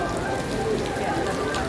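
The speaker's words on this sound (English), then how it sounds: "It's raining." Steady rain falls continuously, a dense broadband patter with no breaks, fairly close and even in loudness throughout, with a faint voice-like tone threading through underneath.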